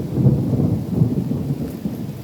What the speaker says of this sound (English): Actually, it's good that it's raining.